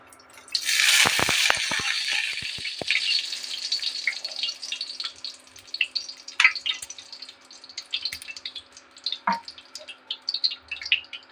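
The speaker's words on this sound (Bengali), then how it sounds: "আর কড়াইতে দিয়ে দেবো রিফাইন তেল।" Refined oil poured into a kadai on a stove, a brief bright splashing pour at the start, then faint scattered ticks and drips fading to quiet; no one speaks.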